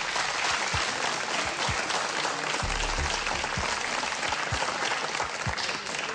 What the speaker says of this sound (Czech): Zasloužíte si určitě veliký potlesk